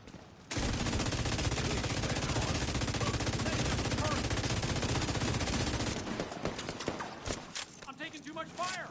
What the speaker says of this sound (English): I'm taking too much fire!